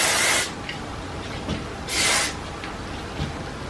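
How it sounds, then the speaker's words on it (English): Two short bursts of flexible-hold hair spray from an aerosol can, close and hissing, separated by a quiet pause. "I'm gonna add a little bit of the flexible hold spray in this section as well."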